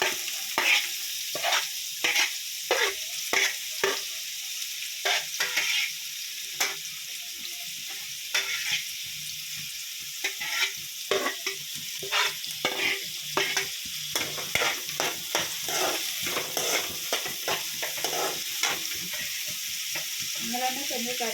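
Onions sizzle in hot oil with spluttering seasoning, a constant close frying hiss punctuated by a long run of rhythmic stirring bursts and crackles, with no one talking.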